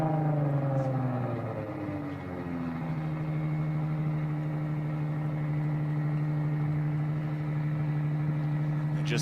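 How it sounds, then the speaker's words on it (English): A race car engine at Pikes Peak, stuck with a suspected clutch or gearbox fault, revs down and then holds a steady droning hum without the car moving. A commentator's voice runs over it. "The engine's revving, but it's going nowhere."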